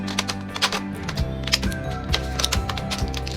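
Scissors snip repeatedly through a blister pack of red early-phase TB medicine, a run of sharp close clicks and crisp cuts with no talk.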